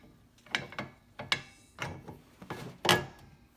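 A windshield wiper arm on the driver's side of a car is pushed into place, giving a series of about six sharp mechanical clicks and clunks at uneven intervals, close and distinct against a quiet background.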